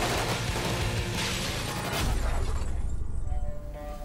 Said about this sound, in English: The glass walls, they get blown and they fall apart.